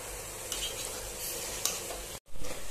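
Onion frying with garlic ginger paste in a pan for bhuna chicken, giving a steady loud sizzle with brief stirring scrapes near the end, close up and without speech.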